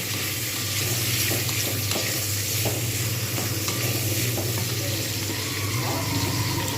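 Whole amla gooseberries fry in hot white oil in a pan, a steady, close sizzle with stirring scrapes and occasional wet crackles running continuously throughout.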